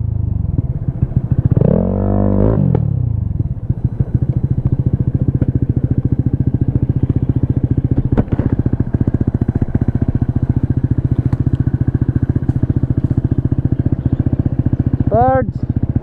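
A PGO Tigra 150 scooter fitted with an Akrapovic exhaust and no silencer revs and runs loudly and continuously close by, with a rising rev sweep near the start and another near the end, alongside clattering knocks.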